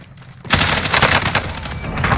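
Rapid automatic gunfire in Call of Duty: Warzone erupts after a brief lull, a loud dense burst of shots continuing for about two seconds.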